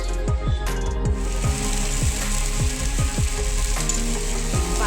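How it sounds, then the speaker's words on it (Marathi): Ghee sizzles loudly and continuously in a hot pan while making homemade baby cereal, with crackling pops throughout. "आपण आता थोडंसं तूप घालूया"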